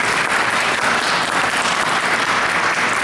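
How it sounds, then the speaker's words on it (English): A banquet crowd at a Chamber of Commerce dinner gives a loud, continuous round of applause, many hands clapping at once in a steady, unbroken roar. "We'll give these women an applause,"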